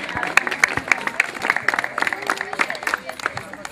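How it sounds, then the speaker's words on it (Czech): At a running race prize ceremony, an outdoor crowd claps steadily for a female winner. The applause continues beneath an announcer who speaks throughout. "Zatleskejme Martině o to víc."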